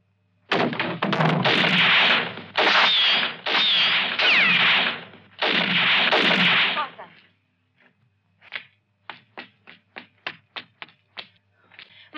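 Gunfire rings out in a 1971 western film, opening with several loud, close blasts of rapid shooting, then after a brief pause a faster string of sharper, quieter cracks in quick succession.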